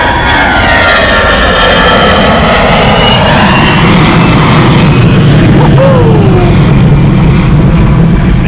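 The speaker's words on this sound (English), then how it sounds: "Next EasyJet out the door, A320. With those CO engines," An EasyJet Airbus A320 jet airliner with CFM engines roars overhead on departure from Bristol Airport, very loud and close. The engine whine sweeps in pitch and the rumble stays steady throughout as the plane passes.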